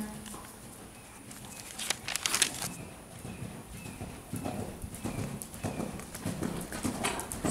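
Horse hooves clip-clopping in an extended canter along the long side of a dressage arena, a steady rhythmic drumming that rises and falls with the stride, fairly close, with faint ambient noise and a brief flutter of wings.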